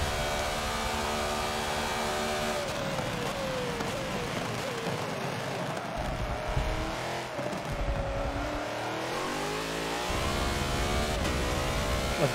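A BMW race car at speed in the slipstream around Sandton, its engine howling loud and close, pitch climbing through the gears with brief dips at shifts, and a voice speaking over it now and then.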